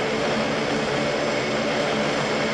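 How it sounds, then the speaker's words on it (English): An ATR 72 turboprop airliner takes off as Flight 619, a loud continuous engine and propeller roar filling the short stretch with no talk. "At 17 o'clock Flight 619 took off."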